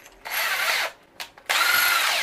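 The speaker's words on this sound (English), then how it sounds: "I'm going to go ahead and drill out my quarter inch holes" A power drill bores quarter-inch holes into a metal ammo box in two loud whining bursts close up, the second longer, with a short quiet gap and a brief spin-up between them.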